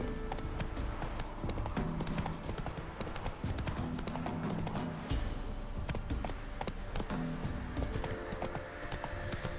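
Horse hooves clip-clop steadily in The Witcher 3 video game, with a brisk, regular rhythm close up and continuous across the whole stretch, over soft ambient game sound.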